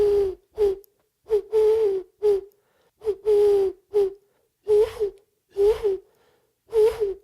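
A person whistles through their fingers to imitate an owl's hoot, repeating the breathy, hollow calls in short paired bursts with gaps between them, close and clear with no speech.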